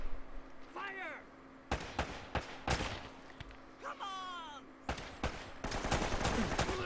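Gunfire in Uncharted: Drake's Fortune, a video game: several loud, sharp bursts and single shots spread across the moment, with whistling ricochet-like sweeps between them and a steady background hum.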